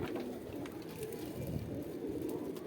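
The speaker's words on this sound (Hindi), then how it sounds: "कबूतर की लाइन्थ देखें" Pigeons kept by a fancier in Saharanpur coo low and soft, a steady murmuring burble running continuously through the short stretch at moderate distance.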